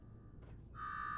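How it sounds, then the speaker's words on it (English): Alarm going off in the video game Fallout 4: after a soft whoosh, a loud steady electronic buzzing tone starts and holds, close and unbroken, over a faint low background hum. "Now go shut off that damn alarm."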